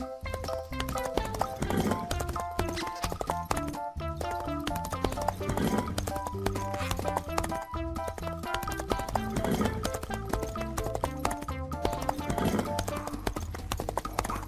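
Horse hooves clip-clop in a steady trotting rhythm throughout, mixed in with continuous music.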